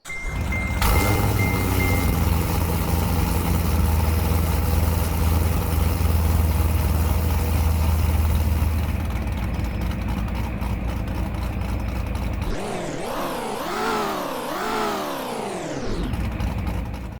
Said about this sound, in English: every trim has brand new engine sounds unique to the C7